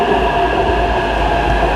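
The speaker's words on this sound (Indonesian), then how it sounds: "Nah, ini tuh datang ya MRT ini." Taiwanese MRT metro train pulling into a station, a steady loud rumble with rail noise and a sustained hum throughout, no talk.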